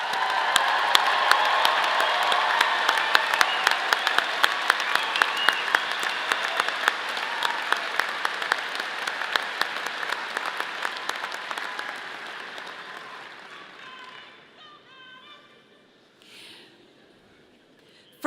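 Sustained applause from a college commencement audience, dense clapping from a large crowd that swells and holds for over ten seconds before thinning out and fading to scattered claps.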